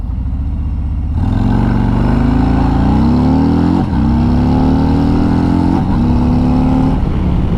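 A 2022 Harley-Davidson Road Glide Special pulls hard from a standstill to 60 mph with traction control off, its V-twin engine rising in pitch through the gears with brief dips at each shift, loud and close.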